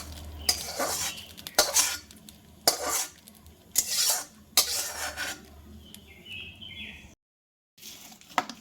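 A spoon scrapes and clinks against a bowl while chutney is mixed, a run of bright metallic strokes in irregular bursts, close up, with a faint chirping in the background and a short gap of silence near the end.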